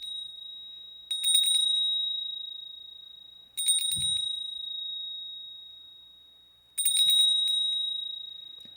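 A bell of abundance rings three times at steady intervals, each bright strike holding a sustained high tone that decays slowly between hits, clear and close with no talking.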